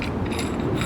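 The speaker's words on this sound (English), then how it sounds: "Just loosen these two screws." Screws being loosened on the adjustable mounting plate of an LED off-road spot/flood light, a steady close mechanical grinding and ratcheting that continues for under a second with no voice.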